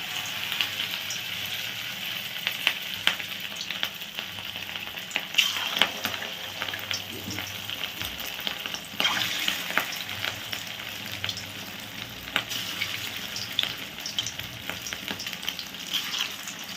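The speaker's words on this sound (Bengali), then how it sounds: "আস্তে আস্তে করে ভাজবে।" Marinated fish for chilli fish fries in hot oil over low heat, a close, steady sizzle with crackling pops and occasional stirring scrapes.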